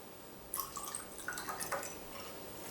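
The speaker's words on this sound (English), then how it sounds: "pour the pure water into the small cup" Purified Fiji water poured into a small cup, a faint close trickle and a few soft drips over about two seconds, no talking.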